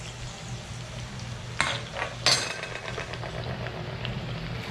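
Onion being stirred into melting butter in a pan for garlic buttered shrimp, with a steady low sizzle and a couple of sharp utensil scrapes and clinks against the pan, close and alone.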